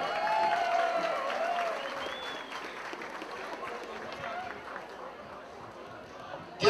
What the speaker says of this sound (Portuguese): Vamos receber com uma calorosa salva de palmas a família Santa Rosa!